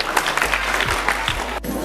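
Applause from a crowd at a village Zilla Parishad school games competition for a young girl who won, steady clapping running throughout, fairly close and full.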